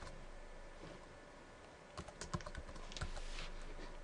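A computer keyboard being typed on to enter a port channel name in network setup software: a quiet stretch, then a short run of crisp, close keystroke clicks in the second half.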